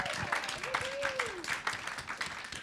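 Studio audience applause for a polka musician on a show, steady clapping running under a speaking voice.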